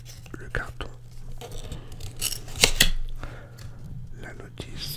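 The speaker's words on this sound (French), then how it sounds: "Je vais ouvrir le carton." A cardboard box is opened up close in a quiet room, with soft scraping, tearing and rustling of the cardboard and a few sharper crackles, under occasional soft speech.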